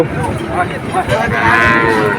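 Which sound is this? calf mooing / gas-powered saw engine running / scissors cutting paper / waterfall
calf mooing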